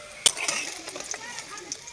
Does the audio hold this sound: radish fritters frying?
yes